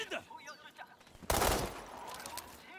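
Rifle fire in the shooter World War 3: a sudden loud burst of shots crashes in partway through after quieter game sounds, then rings out and fades.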